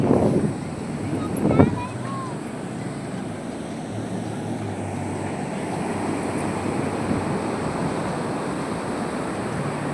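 Sea waves roll in at Paradip beach, a broad continuous wash of surf heard close, with wind buffeting the microphone and a few voices speaking briefly at the start.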